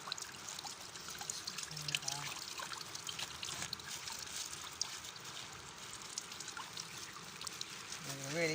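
Water trickles and dribbles steadily from a twisted bait bag on the River Wensum, a continuous close wet splashing with faint background noise and no clear voices.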